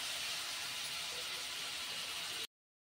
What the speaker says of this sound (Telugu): దీన్ని ఇందులో వేసుకొని కొద్దిసేపు ఫ్రై చేసుకోవాలి.